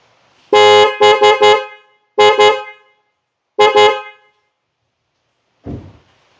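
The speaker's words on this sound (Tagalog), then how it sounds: "The client chooses the PIAA sports horn." Loud PIAA sports horn blasts close by on a new Toyota Land Cruiser 250: a long honk, a quick triple toot, then two more short pairs, ending with a brief thump.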